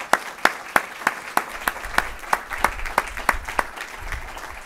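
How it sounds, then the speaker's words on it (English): A small audience at a nuclear energy investment event applauds its panelists, with distinct, fairly sparse claps in a steady rhythm that stay moderately loud through the whole stretch. "Can you all join me in a round of applause for our amazing panelists in this discussion?"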